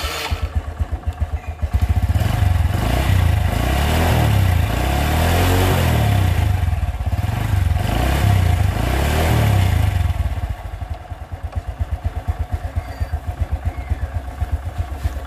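A motorcycle that has lost compression from oil mixed with water is started, coughing into a rough, loud idle close by, then revving in repeated surges before settling back to a lumpy, pulsing idle.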